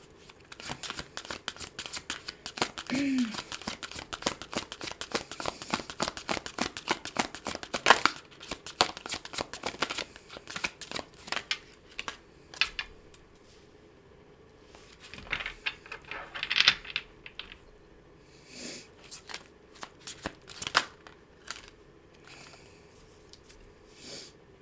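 Tarot cards being shuffled in repeated bursts of crisp riffling and slapping, close and fairly quiet with pauses between rounds.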